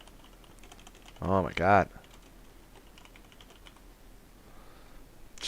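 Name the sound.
typing on a computer keyboard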